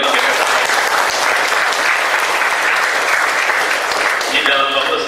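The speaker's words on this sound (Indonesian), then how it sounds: "Saya mohon tepuk tangan sekali lagi untuk guru pembimbingnya." Audience applause at a school event in Ogan Ilir, honoring supervising teachers; steady, dense clapping from a large crowd fills the whole stretch, loud and close, with no talk over it.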